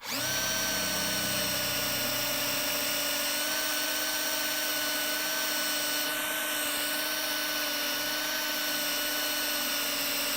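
A power drill bores a hole in a wall for a sound bar mount, running at a steady high-pitched whine throughout, loud and close, with a brief pitch dip partway through.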